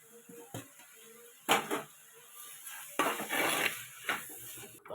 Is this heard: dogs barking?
no